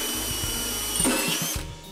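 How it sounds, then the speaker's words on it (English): A rotor broach cutter bores clean holes in metal for a bomber seat, giving a steady, close, loud power-tool whine with a sustained high tone and a brief surge near the end. "I'm using a rotor broach cutter, which makes fast work of getting clean,"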